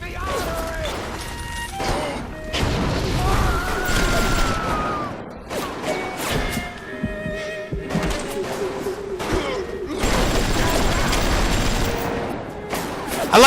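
Tommy gun bursts and crackling flames fill a chaotic firefight in Bioshock, with dense rapid gunfire, booms and mechanical clatter throughout, mixed under voices talking.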